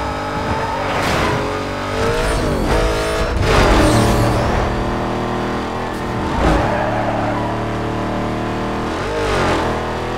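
A Chevette fitted with a Mustang engine in Need for Speed Most Wanted, loud revving and repeated accelerations with gear changes and tire squeals, continuous and close, no talk.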